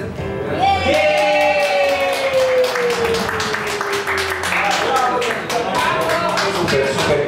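A café-theatre audience claps loudly after a magician's playing-card trick, sharp rhythmic clapping building into full applause, with a voice calling out a long drawn shout over it and brief crowd cheers.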